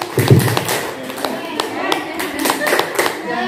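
A group claps together in a rhythmic school-style chant during a teachers' learning session, with sharp, evenly spaced claps and voices chanting along.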